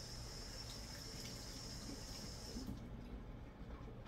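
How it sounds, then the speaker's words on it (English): Tap water runs steadily over hands being washed, a close, even rushing hiss that eases off near the end. "let me wash my hands."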